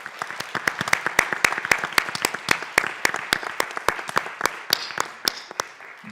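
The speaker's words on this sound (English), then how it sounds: "let's give another round of applause for our great young entrepreneurs" Audience at a student entrepreneurship summit pitch session applauding young entrepreneurs, steady, distinct claps from a modest crowd carrying on for several seconds.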